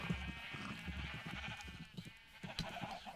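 Sheep bleat repeatedly on a Minecraft-style server farm, several short overlapping calls at moderate distance over a steady low ambient hum, with no talking.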